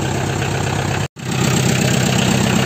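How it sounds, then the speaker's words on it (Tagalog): A farm tractor engine idles on a farm in Quezon, a loud, steady low rumble with a very short dropout partway through and no talking. "Ang ating service ay traktora."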